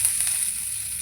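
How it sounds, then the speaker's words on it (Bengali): Broccoli and other vegetables fry in a little white oil in a wok, giving a steady, close, high-pitched sizzle with faint crackling and no voices. "আমি এখানে স্যুপ বানানোর জন্য কটা সবজি দেবো, তাই সবজিগুলো কড়াতে ভেজে নেব।"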